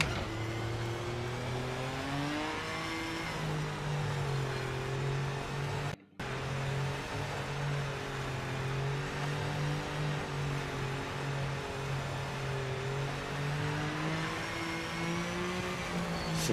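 A race car engine drones steadily in Project Motor Racing, a sim racing game. The whine stays constant with gentle rises and falls in pitch and one brief dropout near the middle.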